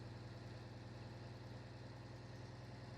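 Truck engine idling in the Alaskan Road Truckers driving game, a steady low rumbling drone that stays constant and alone throughout.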